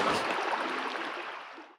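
Water trickles and rushes steadily beside a desert campsite in the Gila National Forest, a broad, close, continuous wash of flowing stream that cuts off abruptly at the end.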